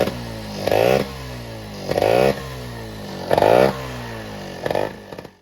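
A small scooter engine with a SIP Road 3.0 aftermarket exhaust idles with a throaty, buzzy exhaust note and is revved in four quick blips at a steady rhythm, close up.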